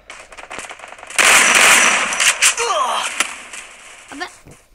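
Gunfire in the mobile shooter Free Fire Max, a loud dense burst of blasts lasting nearly a second, followed by scattered shots and game effects, with a voice talking underneath.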